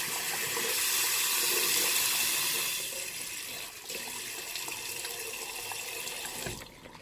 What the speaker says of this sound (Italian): Aggiungiamo acqua.